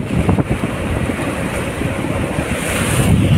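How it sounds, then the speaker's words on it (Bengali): Ten-foot-high sea waves surge around a working boat at sea, a loud rushing wash mixed with heavy wind buffeting the microphone, continuous for a few seconds with no voices. "10 ফুট উঁচা ঢেউ আসতেছে"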